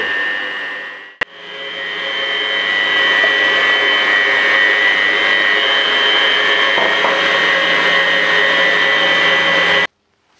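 A kitchen stand mixer mixing savarin dough at low speed, a loud, steady motor whir that starts with a click, builds to an even drone, holds for several seconds, then cuts off.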